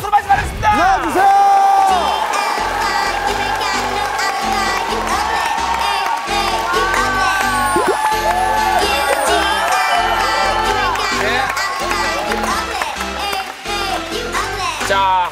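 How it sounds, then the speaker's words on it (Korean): A studio audience on the Korean TV variety show Star King applauds and cheers to welcome a champion cheerleading team. The crowd noise runs throughout, mixed under loud, continuous music with a steady beat. "큰 박수로 맞이 받겠습니다."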